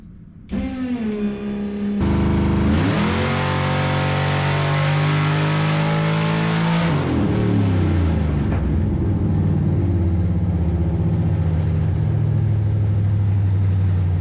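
A Whipple-supercharged G-body engine on a dyno runs steadily, then sweeps up through a long, loud rev under load. The pitch climbs for several seconds, drops off, and settles back into a heavy, droning run.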